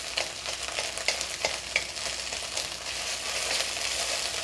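Eggs stir-frying in a hot pan for egg fried rice, a soft steady sizzle with scattered scraping taps of a spatula, fairly quiet and close, with no talking.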